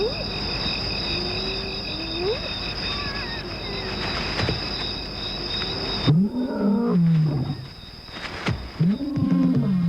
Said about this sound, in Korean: 어둠을 뚫고 들려오는 사자의 울음소리가 그녀의 반사작용을 불러일으킵니다.